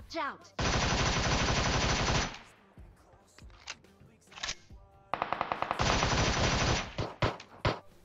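Automatic gunfire in the battle-royale game PUBG, including a Scorpion pistol: two long unbroken bursts of rapid shots, loud and close, separated by scattered single shots, clicks and quieter game noises.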